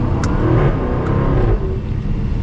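A 2021 Jaguar F-Type R accelerating hard, its exhaust rising into a loud, steady roar as the car pulls away, with no one speaking.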